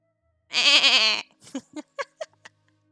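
A goat bleats once in a long wavering cry, followed by several shorter bleats or squeaks trailing off, close and clear with nothing else behind it.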